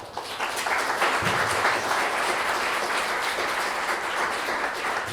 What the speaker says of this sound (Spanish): Fuertes palmas para nuestros expositores